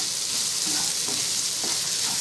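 Chopped capsicum is stirred into bread chilli in a hot pan with a constant loud sizzle and a few soft stirring scrapes underneath.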